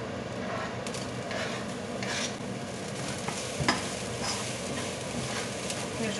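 Shallots fry gently in a pan where steak was just cooked, a low steady sizzle with soft stirring and scraping close by, without talk.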